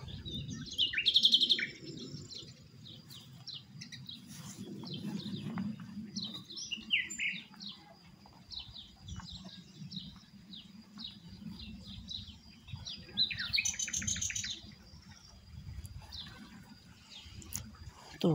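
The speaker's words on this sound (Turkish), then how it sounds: "Kuşlar deşlik yapıyor bana." Small birds chirp and trill in scattered bursts, fairly distant, over a low outdoor rumble with faint movement noise.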